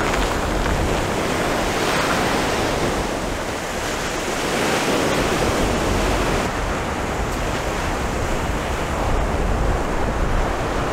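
Sea waves roll onto a wild sandy beach in Crimea, with a loud, continuous roar of surf that swells and eases in slow surges, and wind buffets the microphone with no voices.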